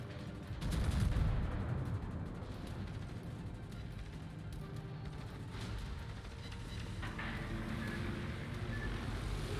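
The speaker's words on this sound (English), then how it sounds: "he's firing SAP at you" Naval combat game sound of a ship firing SAP shells, a loud booming salvo near the start that settles into sustained rumbling battle noise and wind-like roar throughout, with no talk.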